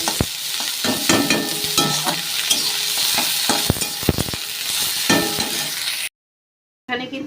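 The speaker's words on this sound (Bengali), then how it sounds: "আমি কিন্তু কড়ায় তেল বসিয়ে দিয়েছি, আর পেঁয়াজটা কিন্তু আমি ভেজে নেব" Onions fry in oil in a kadai, a wok-style pan, sizzling steadily while a utensil stirs and scrapes in irregular clatters; the sound cuts out briefly near the end, then the sizzle returns.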